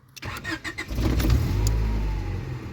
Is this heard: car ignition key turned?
yes